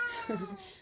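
A single short Bengal cat meow, close and fairly soft, rising and then falling against a faint background hum.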